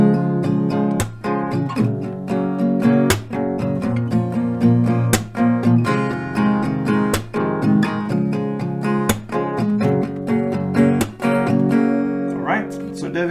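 An acoustic guitar strums the chord progression of a song, a steady rhythmic run of full chords with sharp strum attacks, played close and alone without talk.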